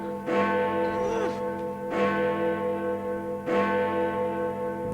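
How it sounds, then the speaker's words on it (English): A clock chimes with a deep, church-bell-like tone, striking three evenly spaced, resonant strokes that ring on and overlap in a long humming decay. "Does that mean you can chime again?"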